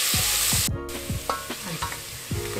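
Pounded garlic and ginger fry in a hot pan for green chana masala, a loud steady sizzle broken by repeated scraping strokes of a stirring spoon, close and without talk.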